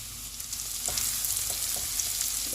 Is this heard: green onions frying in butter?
yes